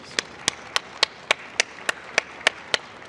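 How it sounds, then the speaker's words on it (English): Single hand claps ring out one after another after a panel talk at a kitchen and bath trade show, about ten crisp, evenly spaced claps in a slow steady rhythm over a quiet room. "Let's give them a round of applause, please."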